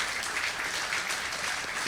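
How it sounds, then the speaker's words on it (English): A State of the City audience claps for their congresswoman in a short burst of even, continuous applause from a sizable crowd, with no voices over it. "Let's give a big round of applause to our Congresswoman."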